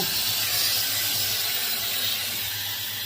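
Steam hisses steadily while metal jar lids are sterilised during home canning of fish, forming a constant, close, even rush of noise with no pauses.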